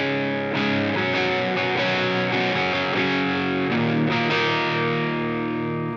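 An electric guitar with its volume and tone controls rolled back plays chords with a softer, warmer overdrive, less aggressive than full distortion, ringing steadily and loud without any voices.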